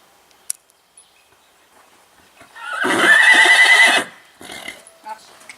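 A horse lets out one loud, drawn-out whinny nearby, lasting about a second, with faint clicks and quiet sounds around it.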